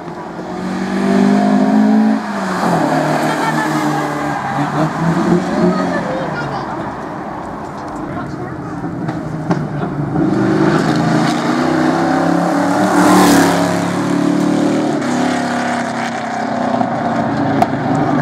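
A yellow Rover P6 racing car at the 1984 Spa 24-hour race, engine droning loudly and steadily for the whole stretch with some swelling and fading as it passes, while a commentator talks over it.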